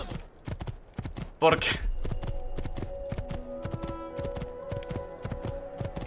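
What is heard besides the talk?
horse hooves clip-clop while riding in Assassin's Creed II video game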